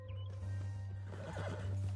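A horse whinnies loudly up close in Red Dead Redemption II, its neigh rising and wavering over a steady low hum, followed by a few quick hoof clops on the ground.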